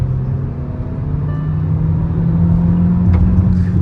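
The turbocharged 1.5 engine of a Hyundai Verna with a DCT gearbox hums at high RPM as a steady, rising drone heard from inside the car, with no talk over it.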